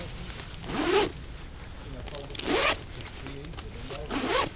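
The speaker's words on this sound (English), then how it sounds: "It's got 2 zips that opens it up" Zippers on a tactical bag are pulled open in three quick rasping strokes, close up and evenly spaced.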